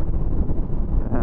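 Wind blasts into a helmet-mounted microphone on a rainy day, a dense, loud, close rumbling roar filling the whole short moment without letup.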